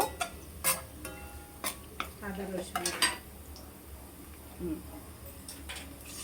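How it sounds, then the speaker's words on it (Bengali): Onions fry in a pot with whole cardamom and cinnamon for an Old Dhaka-style chicken polao. A spoon stirs them in a run of close, intermittent clanks and scrapes against the metal over a faint frying hiss. "পেঁয়াজটা বসিয়ে দিয়েছি, এটা একটু হালকা ব্রাউনিশ কালার করে নিব।"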